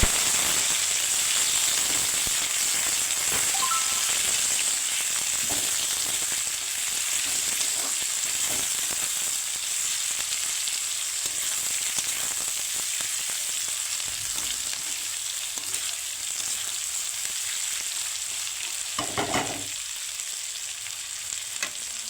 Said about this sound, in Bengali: এবার কেটে রাখা পেঁয়াজ, কাঁচা লঙ্কা দিয়ে দেবো।